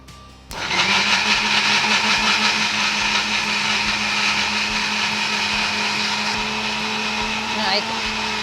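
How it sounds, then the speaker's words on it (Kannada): A mixer grinder whirs into life after a short pause, grinding green chilli and dosa batter ingredients with a loud, steady high-pitched motor drone that holds for several seconds. "ಇಷ್ಟನ್ನು ಗ್ರೈಂಡ್ ಮಾಡ್ಕೊಳ್ಳೋದು"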